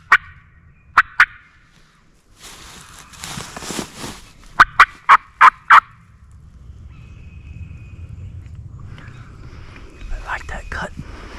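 Wild turkey gobbling during a mid-morning Mississippi spring hunt, several loud, sharp gobbles in bursts from fairly close, between stretches of rustling and walking noise, with quiet whispering.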